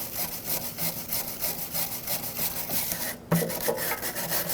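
A starter mounting surface on a 2000-2007 Ford Taurus 3.0L V6 is scrubbed clean with steady back-and-forth rasping strokes, close and fairly quiet, with a brief pause near the end before scrubbing resumes.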